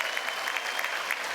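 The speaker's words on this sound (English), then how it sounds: "give your family and friends a round of applause to say thank you" A graduation ceremony audience applauds families and friends with a continuous, even round of clapping from many hands, fairly close and dense.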